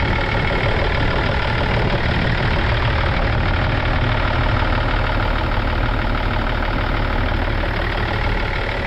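A diesel engine in a BMW idles steadily and loudly with a faint knocking clatter running through the rumble. The sound is close and unchanging, with no voices for nearly nine seconds.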